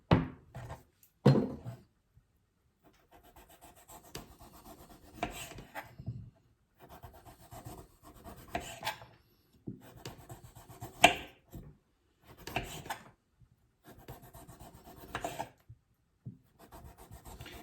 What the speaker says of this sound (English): Sweet potato, I'm going to peel it with a knife.